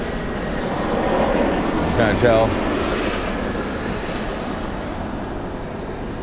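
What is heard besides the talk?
airplane flying over low on flight line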